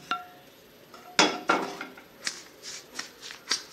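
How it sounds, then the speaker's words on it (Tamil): Rava laddu mixture with ghee-roasted cashews being stirred with a spoon, heard as scattered dry scrapes and light clinks against the pan, a few sharper knocks among softer brushing strokes, close and fairly quiet. "நல்லா கிளறி விட்டுக்கோங்க."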